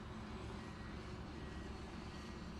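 An aircraft flying an aerobatic display at Farnborough Airshow gives a faint, distant, steady engine drone that holds without change for a few seconds.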